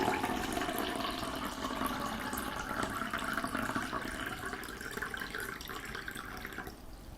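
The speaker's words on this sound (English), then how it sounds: "if you do pour it, then the water does move, but it doesn't come out" Filtered water pours steadily from a Brita Marella filter jug, a continuous close splashing trickle that fades out near the end, with no one talking.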